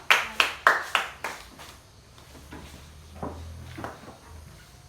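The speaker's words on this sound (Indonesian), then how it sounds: "Tepuk tangan buat Nina" A few people in a grade-four classroom clap, starting with several loud, sharp claps close by that quickly fade into scattered, quieter taps and faint room noise.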